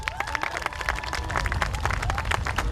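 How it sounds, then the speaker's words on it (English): Applause from the audience at a school promotional ceremony for kindergarten and 6th grade: many people clapping together, building slightly louder toward the end, with some crowd voices murmuring beneath. "I start with Bob Bynum. Let's give him a big round of applause."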